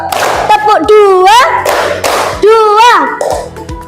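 In an elementary classroom, a counting clap game repeats in quick cycles: a leading voice calls out, and crisp clusters of children's claps answer, near and loud.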